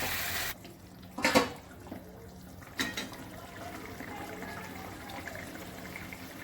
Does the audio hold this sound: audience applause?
no